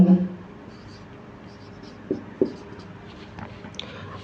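Chalk or marker writing on a board during a physics lesson on the Bohr atomic model, faint scratchy strokes with a couple of sharper taps, over a low room hum and brief voice traces.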